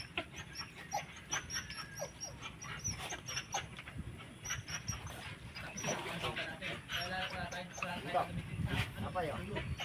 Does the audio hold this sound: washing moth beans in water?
no